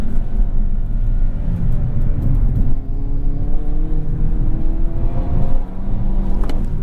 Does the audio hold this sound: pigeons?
no